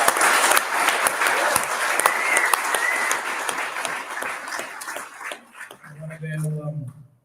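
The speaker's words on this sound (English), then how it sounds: "everyone give DArren Bergwerf another clap" A lounge bar crowd in South Morang claps warmly in a dense, lively burst that fades over several seconds, after which a voice speaks briefly.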